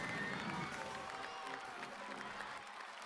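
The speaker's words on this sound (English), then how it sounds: "all the little fellas clap" Park guests in OpenRCT2, the open-source Rollercoaster Tycoon 2, break into a dense wash of crowd clapping that holds steady for a few seconds, then thins slightly at the end.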